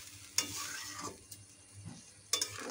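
Small morula fish cook in a pan just after spiced water is poured in, giving a soft bubbling sizzle broken by a few sharp scraping stirs of a utensil against the pan.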